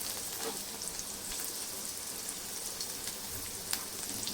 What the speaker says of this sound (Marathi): आता याच्यामध्ये तीन लाल मिरच्या टाकून घेते